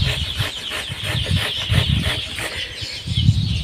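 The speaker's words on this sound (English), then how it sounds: "you see those birds over there?" Wild birds gather near a rural sugarcane field, giving repeated clucking, chattering calls in quick uneven bursts, fairly close and loud, with no talking over them.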